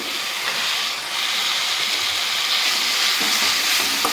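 Tengra fish frying with spice paste in oil makes a loud, continuous, bright sizzle and hiss with faint stirring underneath, no talking.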